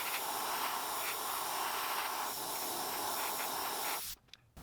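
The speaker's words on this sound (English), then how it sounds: "I'm just going to spray a little bit and see" Spray paint hisses steadily onto a crankbait fishing lure in a close, continuous burst lasting about four seconds before cutting off into quiet.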